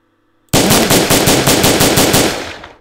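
AK-47 rifles fire in a video game, a loud sustained burst of rapid automatic gunfire starting abruptly and running about two seconds before tapering off.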